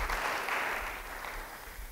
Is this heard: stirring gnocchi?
no